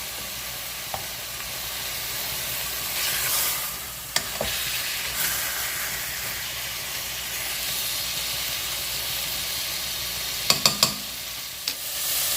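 Meat frying in a pan over high heat, a continuous broad sizzle and hiss heard up close, broken by several sharp scrapes and clicks as it is stirred.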